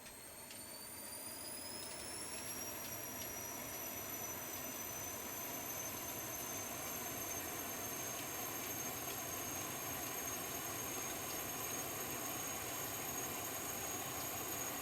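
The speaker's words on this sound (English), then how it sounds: "you can hear actually the blades are clanking here" The auxiliary power unit of a CL650 jet in a flight simulator spools up to a steady high whine with a faint rattling clank from its blades, a constant turbine hum holding for the full stretch without talk.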